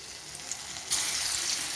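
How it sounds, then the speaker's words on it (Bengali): Khoshla vadas dropped into hot oil in a kadai, the faint hiss swelling abruptly into a bright, steady close sizzle as the batter hits the oil. "কড়াইয়ে তেল গরম হতে দিয়ে দিয়েছি। এবার আমি একটা একটা করে ছেড়ে দেবো খসলার বড়া।"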